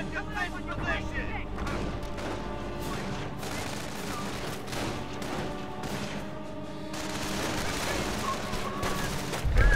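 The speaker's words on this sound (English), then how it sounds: "Well, that was the artillery gun." Dense artillery and gunfire from a Company of Heroes battle, with booms and rattling shots overlapping continuously throughout, loud and busy, with voices mixed in.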